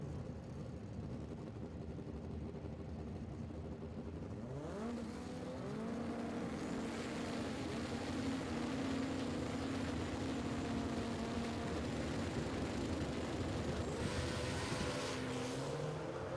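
Drag race cars roar down the strip at a World Cup Finals event, a sustained, distant engine roar with a rising pitch sweep as they launch and pull toward the big end, steady and without talk.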